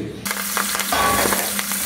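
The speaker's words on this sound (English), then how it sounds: "First, you have to fry to some extent these Cocosenia leaves" Cocosenia leaves sizzle and crackle briefly in a hot pan, a short burst of frying with some scraping, close and fairly loud.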